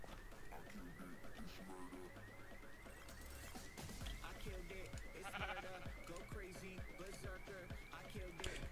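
Sheep in the video game Minecraft bleat repeatedly in short wavering calls, layered over game noise and a steady background hum, with no clear talk over them.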